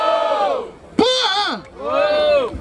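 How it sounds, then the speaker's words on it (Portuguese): Crowd at a rap battle in Barueri, São Paulo, lets out loud whoops and shouted cheers, a sudden burst of voices rising and falling together over about a second, with voiced yelling before and after. "Barulho para as rimas do GRM."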